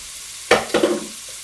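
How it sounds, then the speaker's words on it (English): Minced beef for spaghetti bolognese sizzling in a pan, with two short bursts of frying and stirring noise close by and quiet before and after. "now we're cooking away with this mince"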